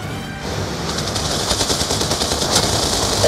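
Rapid enemy gunfire in the Call of Duty Black Ops 2 campaign during a convoy battle against an enemy helicopter, sustained automatic bursts with crackling peaks, steady and fairly loud throughout with no talking.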